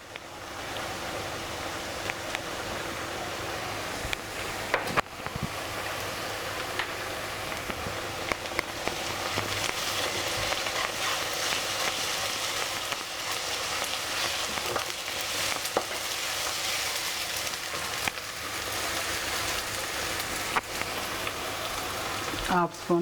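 Onions fry with ginger garlic paste for a mutton keema and drumstick curry, a steady crackling sizzle heard close with occasional clicks and a voice talking faintly at times.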